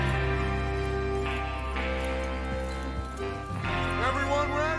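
Horse hooves clatter at speed in the video game Red Dead Redemption 2, a steady clip-clop running under a dense musical score and game ambience, with a voice speaking over it.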